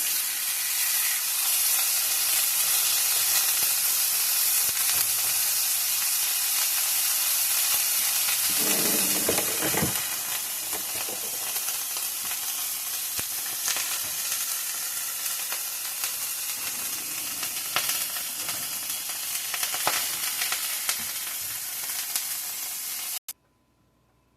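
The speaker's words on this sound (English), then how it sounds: "skillet is hot. We're going to fry our hamburgers." Hamburger patties frying in a hot skillet give a steady, loud sizzle that keeps going nearly the whole time, with a few brief crackles and spatters, then stops abruptly at the end.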